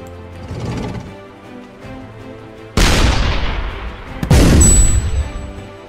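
Tank cannons fire in the online artillery game Shellshock Live: two loud, close booming blasts a little over a second apart, each with a broad decaying rumble, following a quieter stretch of game sound.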